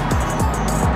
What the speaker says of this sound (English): now we gotta wait for the freaking car